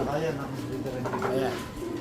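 Racing pigeons coo continuously inside a flyers and breeders loft, a close, soft, layered murmur of many birds with faint voices in the background.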